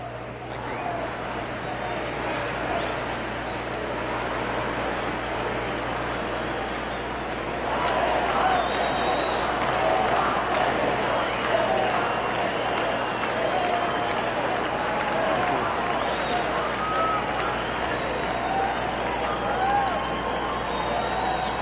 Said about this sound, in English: Still cheering here for President Carter.